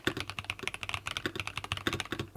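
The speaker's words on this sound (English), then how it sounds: "this keyboard does come pre-lubed and has pre-lubed stabilizers, so it sounds like this." Rapid, steady keystrokes on a pre-lubed ROG Azoth gaming keyboard with pre-lubed stabilizers, a close, continuous clatter of crisp clicks with no voices.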